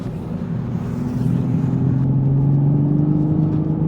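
2023 Toyota GR Supra accelerating at full throttle on a road course, a deep engine drone rising in pitch as it pulls hard, heard from inside the car, loud and continuous.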